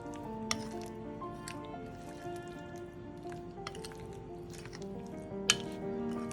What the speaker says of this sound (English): I'll mix it nicely now. Give it a nice stir so that it coats up.